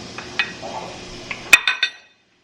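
Spinach and mushrooms pushed around a skillet on the stove: a few sharp utensil clinks and knocks against the pan, then a quick cluster of taps before it goes quiet.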